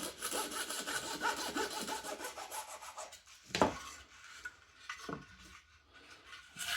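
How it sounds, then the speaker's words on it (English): Hand sawing through the end of a wooden model aircraft tail piece, a steady rasping stroke rhythm at close range that stops, followed by a few sharp knocks and scrapes. "Saw that end off there."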